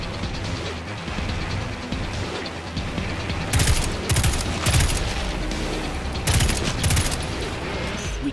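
Rapid automatic gunfire in the Destiny 2 video game, sustained bursts of loud shots cutting in and out over a dense battle backdrop, with the heaviest volleys near the middle and end.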